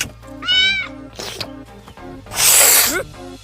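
A cat meows in a short, rising-and-falling cry, followed by a brief second call and then a harsh, breathy hiss, all close and clear.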